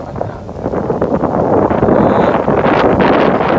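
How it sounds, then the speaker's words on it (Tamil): Strong wind gusts roar continuously across an open paddy field as rain begins, a loud broadband rush buffeting the microphone with no voices. "சரியான காற்று மழை ஸ்டார்ட் ஆகிட்டு"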